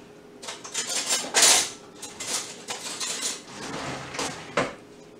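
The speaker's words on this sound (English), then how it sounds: "Let me get a spoon or something to kind of show you" A metal spoon scrapes and clinks against the inside of a pot of boiled pork neck bones in a home kitchen, several uneven bursts of scraping close up with no talking.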